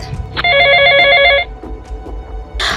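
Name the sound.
mobile phone ringing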